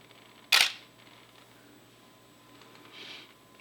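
A single sharp camera shutter click up close, used while shooting macro photos of soap bubbles, followed by a fainter, softer mechanical sound a few seconds later in an otherwise quiet room.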